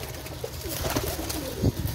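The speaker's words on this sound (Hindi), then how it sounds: "ये देखेंगे सियालकोटी कबूतर चेक करें ज़रा" Sialkoti pigeons coo on a rooftop loft, a low soft burbling call rising near the end over a steady background hum, fairly close and moderately loud.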